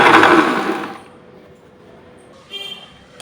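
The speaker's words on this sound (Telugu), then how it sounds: "దాని తర్వాత కొంచెంసేపు బ్లెండ్ చేద్దాం." A kitchen blender whirring through a banana milkshake with a cardamom pod, loud and dense for about a second before cutting off, followed by a quiet lull and a brief fainter whir near the end.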